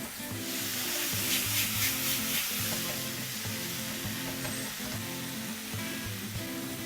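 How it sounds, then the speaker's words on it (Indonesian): Sausage stir-frying in a pan for tomato-egg fried rice, with a steady loud sizzle and rhythmic scraping and stirring strokes throughout, no voices. "Masukkan juga dalam tumisan."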